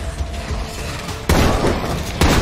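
Two sharp, loud gunshot bursts ring out in the zombie survival video game State of Decay 2, about a second apart, over a rumbling in-game background.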